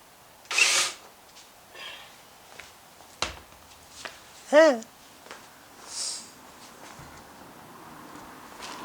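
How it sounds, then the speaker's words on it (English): A power drill removes the fasteners on an Acura's front bumper cowling lip in several short, close whirring bursts, one rising sharply as it spins up. Clicks and handling clatter fill the gaps between bursts. "So take my drill."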